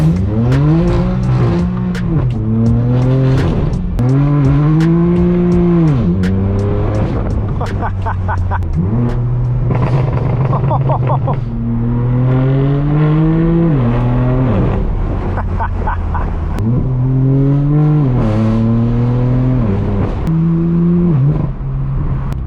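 A straight-piped BMW M4 F82 in sport mode revving and shifting through gears, pitch climbing and dropping repeatedly, loud and close, with a driving engine drone throughout, at night in Los Angeles.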